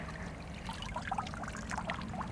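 Water splashing and trickling onto plants in a garden bed, a steady close pour with scattered droplet spatters over continuous background noise.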